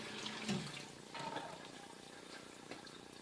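Fluid from a parts washing station runs in a steady, soft splashing stream, close and continuous, with a voice talking over it.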